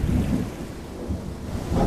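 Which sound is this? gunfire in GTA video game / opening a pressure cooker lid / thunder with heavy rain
thunder with heavy rain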